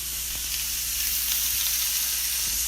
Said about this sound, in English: I'm cooking pork loin.